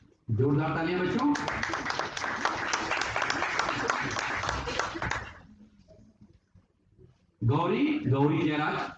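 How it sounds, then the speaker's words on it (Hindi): Children in an audience at a formal session clap in a steady, dense burst for several seconds, with speech over a PA system before and after. "जोरदार तालियां बच्चों।"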